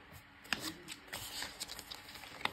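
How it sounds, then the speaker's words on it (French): Raspberry-coloured cardstock paper being handled for a Stamperia rose-themed album page, with soft rustling and a few crisp papery flicks, close and fairly quiet. "Je reprends mon petit cardstock couleur framboise et on va pouvoir le coller ici"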